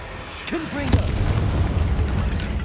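Confringo fire spell explodes in Hogwarts Legacy, a single sharp blast followed by a sustained rumbling boom that lingers under a brief spoken voice near the start.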